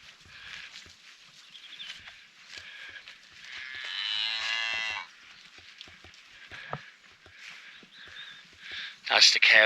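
Cattle in a farm field with new calves moo in long, drawn-out calls, one loud low bellow standing out close by, with other moos and shuffling in between and someone talking over parts of it.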